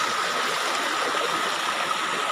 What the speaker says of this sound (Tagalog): dyan dumadaan yung tubig. Pababa. Pababa doon sa talon.